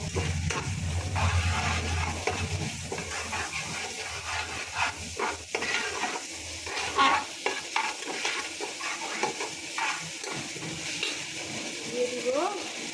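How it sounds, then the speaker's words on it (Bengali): Beef cooked with ginger and garlic paste is stirred in a pan, a steady sizzle and frying hiss running throughout with repeated scraping strokes of a spoon against the pan, close and continuous. "আদা বাটা রসুন বাটা দিয়ে সুন্দর করে একটু নাড়িয়ে চাড়িয়ে নিব"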